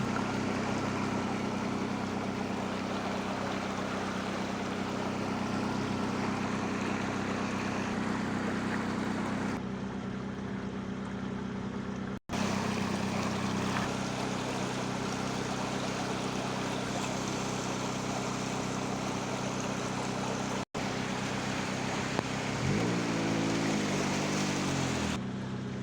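Floodwater after a night of rain rushes steadily through a city street in Heitoraí, Goiás, a constant loud wash of flowing water with a brief low tonal sound near the end and no talking.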